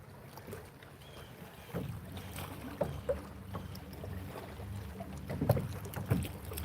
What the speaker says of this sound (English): I have my paddle, but paddling this kayak sucks.